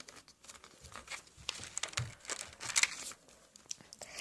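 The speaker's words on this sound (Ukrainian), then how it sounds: "Ми його візьмемо і приклеїмо прозорим скотчем" Crinkling and crackling of plastic tape being pulled and pressed down, close by, with scattered small rustles and soft taps throughout.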